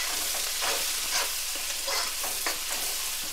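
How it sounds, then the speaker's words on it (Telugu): Onions frying in a pan for a chicken curry, a continuous bright sizzle with a few rhythmic scraping strokes of a spoon as they are stirred, close up and without voices. "తర్వాత ఆనియన్స్, ఆనియన్స్ వేసి ఒకసారి కలుపుదాం."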